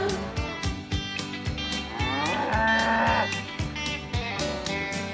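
A cow moos on a farm over a bouncy children's song with steady percussion and music, a drawn-out lowing call rising in the middle of the clip, fairly clear against the backing.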